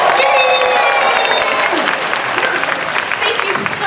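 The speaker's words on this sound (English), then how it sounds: "Let's give a big round of applause for Serena Arvizo" A crowd at a Disney's Hollywood Studios 35th anniversary ceremony applauds loudly and steadily, with some cheering mixed in and a voice talking over the clapping.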